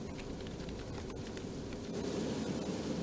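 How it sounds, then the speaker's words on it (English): Heavy rain pours steadily during a thunderstorm on Highway 69 south of Tuscaloosa in West Alabama, a dense, continuous hiss with a low rumble underneath that swells slightly louder toward the end. "it's still raining very hard"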